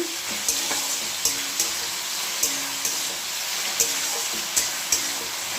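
Vegetables fry in a pan with salt being added, a continuous sizzle broken by repeated sharp clicks of stirring against the pan.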